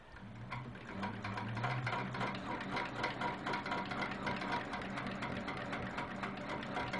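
A sewing machine quilts stitch-in-the-ditch seams on a quilt block, giving off a steady fast mechanical clatter and whir that runs on without pause at low volume.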